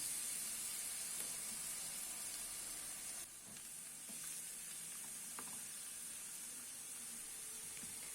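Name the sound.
beef steak sizzling in oiled grill pan on stove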